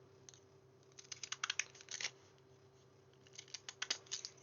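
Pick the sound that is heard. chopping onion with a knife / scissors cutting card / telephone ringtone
scissors cutting card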